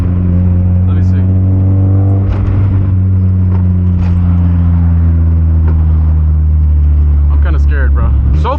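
A Mazda Miata on a test drive after its wheel hubs were replaced, the engine humming loud and steady from inside the cabin throughout, with someone talking over it now and then.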